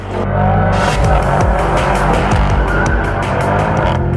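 A Mercedes-Benz E63 AMG engine roars loudly and continuously close by, a deep, aggressive bellow holding steady for several seconds.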